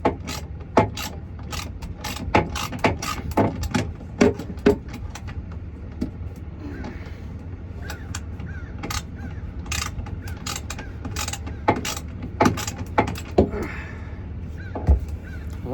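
Hand ratchet tightening the bolts of a trolling motor mount on a Carolina Skiff JV17, with sharp repeated clicking strokes in uneven bursts and short pauses over steady background noise, close and clear.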